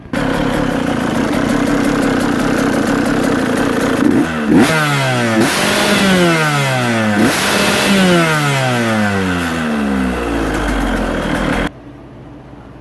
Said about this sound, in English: Let's see if the marks line up when I rev her out.